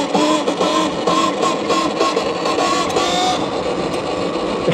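A Talaria XXX electric motorbike revving under snappy throttle, a buzzy whirring motor whine with pulsing surges, close and loud and continuous for a few seconds.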